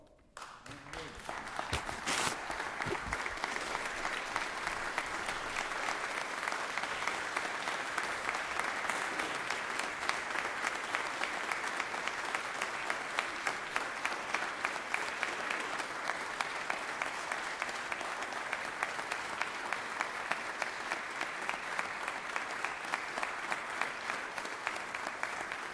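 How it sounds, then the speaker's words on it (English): Sustained applause fills a Georgia State Senate chamber during a session, dense, steady clapping from many people that carries on for about twenty-five seconds without letting up. "I think we all need to stand and give him an applause."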